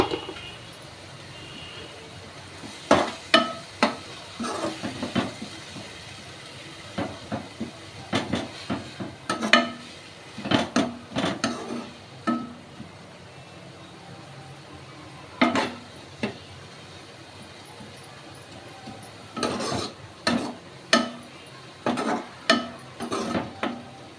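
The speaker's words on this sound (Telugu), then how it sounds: "ఇప్పుడు వీటిని బాగా ఫ్రై చేసుకోవాలి." Ginger garlic and garam masala paste fried in a pan for an okra masala curry, heard as quiet scraping and clinking stir strokes that come in irregular bursts over a faint background hiss.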